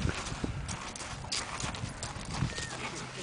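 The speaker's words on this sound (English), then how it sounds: "Back this horse towards you." Horse hooves step and shuffle on the ground as the horse is backed up, soft irregular clops over outdoor background noise.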